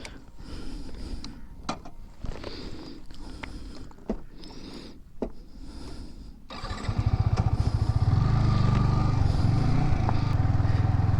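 A Yamaha R15 V4 sport bike with a slipper clutch: a few clicks and knocks, then the engine catches and settles into a loud, steady, close idle burble.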